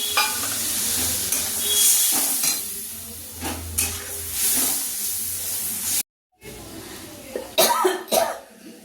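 Mutton simmering in a pan after a splash of ginger-paste rinse water, giving a steady low sizzle and bubbling with scattered spoon scrapes and stirring clatter, a brief cut of silence midway, and a few sharper clinks near the end.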